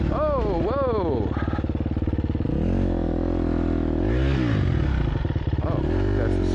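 A dirt bike engine labours along a mountain trail, with a steady throaty drone that rises and falls through revs and gear changes and stays loud and close throughout.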